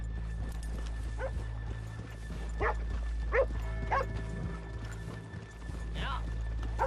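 Horse hooves clop steadily at a walking pace in Red Dead Redemption 2, in the town of Valentine, close by, with low background hum and a few brief snorts or calls mixed in.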